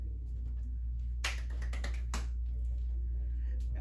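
Fast hand claps from a seniors' chair exercise class playing with a hacky sack: a quick burst of sharp claps in the middle, then a few scattered ones, over a steady low room hum.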